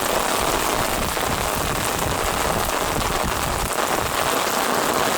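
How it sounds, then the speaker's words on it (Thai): Heavy rain pours down in a dense, unbroken roar, steady and loud throughout, drumming on nearby surfaces with no voices. "ฝนตกแรง แรงเลย"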